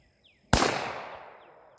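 One sharp, close pistol shot from a Glock 34 during competition-style practice, a loud crack with a long, fading echo in otherwise quiet surroundings.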